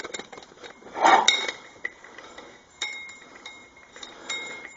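Metal bolts clink and rattle as they are handled during reassembly of a Hydramatic transmission: a louder cluster of jingling near the start, then scattered light taps and knocks, close by and without speech.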